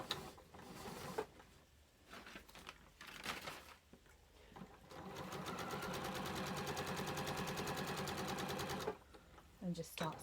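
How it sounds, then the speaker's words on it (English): A sewing machine stitches charm pack fabric pieces in short bursts of whirring and clicking, then in one longer even run of stitching, with faint speech in the pauses. "just start sewing"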